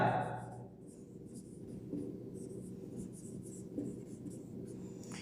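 A maths matrix problem being written out by hand: quick scratchy strokes and taps of a pen or chalk, close and quiet, in short bursts with brief pauses between them.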